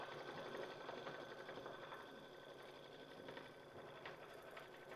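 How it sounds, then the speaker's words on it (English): A sewing machine stitching a tote bag strap, running in a continuous fast mechanical whir with rhythmic needle chatter, close and fairly quiet, with no talking. "and we'll sew that out."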